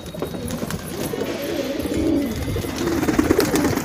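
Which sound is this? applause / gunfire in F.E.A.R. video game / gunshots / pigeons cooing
pigeons cooing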